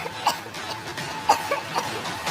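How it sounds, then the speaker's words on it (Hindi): A girl coughs in a horror-story sound effect, giving a few short, fairly soft coughs spaced out over a faint background hiss. "वो खांसे जा रही है"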